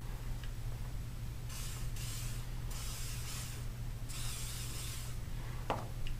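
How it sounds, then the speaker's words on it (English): WD-40 is sprayed onto the front of a sausage gun in a few short, hissing aerosol bursts, close and fairly quiet, separated by pauses over a low steady hum. "spray the front with a little bit of WD-40"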